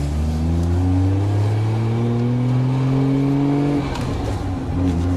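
A Nissan Skyline GTR R32 engine drones steadily nearby without boost, its pitch climbing slowly as it revs, then dropping briefly before settling into a smooth idle hum.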